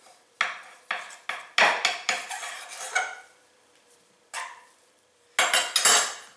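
A knife cuts through sweet orange roll dough inside a bowl, giving a series of sharp, close clinks and scrapes of metal against the bowl in irregular bursts, with a final cluster of louder scraping knocks near the end.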